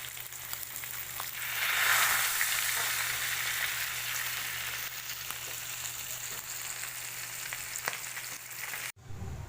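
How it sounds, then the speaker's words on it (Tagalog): Pampano fish frying in hot oil, a steady loud sizzle with crackling that swells early and holds, no voices, cut off abruptly near the end. "Fried Pampano."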